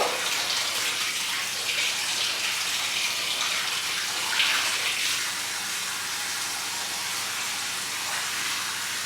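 Steady running water from a tap fills a bath while a dog is washed, a continuous broad hiss and splash, fairly close and even throughout, with no speech over it.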